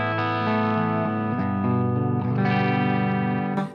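Marshall DSL 100H amplifier with its reverb up, driven by a Schecter Banshee electric guitar: sustained distorted chords ring out loud and steady, shifting a few times, with a short trailing decay at the end.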